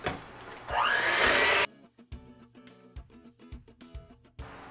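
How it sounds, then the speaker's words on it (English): An electric mixer whirs steadily through pumpkin bread batter of spices, baking soda, baking powder and sugar, then cuts out, leaving scattered clinks and knocks against the bowl. "Go ahead and give this a quick mix"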